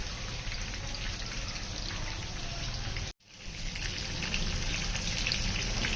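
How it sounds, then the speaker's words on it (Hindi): Chicken fries in a pan over a medium flame, giving a steady, dense sizzle and crackle that cuts out briefly midway, then resumes at full strength. "चिकन जो है वो फ्राई कर ली हमने।"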